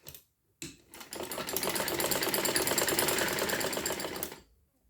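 A sewing machine zigzag-stitches lace along a kurti side slit, running in one steady, close mechanical burst of rapid needle clatter for about three seconds after a couple of short starts.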